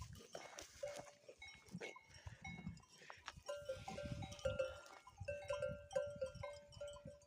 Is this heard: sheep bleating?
yes